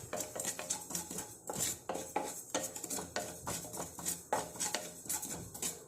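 Black cumin seeds are dry-roasted in a pan. A utensil stirs and scrapes in quick, uneven strokes, with light clinks and soft rattling of seeds against metal close by.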